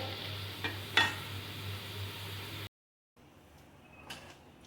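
Grated bottle gourd dry-sautéing in a pan, heard as a soft, steady sizzle with a couple of sharp scraping stir strokes and a low hum, broken by a brief silent gap before quieter stirring resumes.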